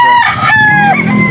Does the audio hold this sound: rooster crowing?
yes